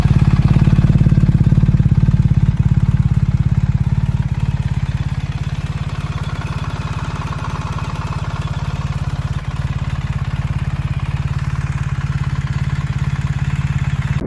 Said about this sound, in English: a tractor-like sound at idle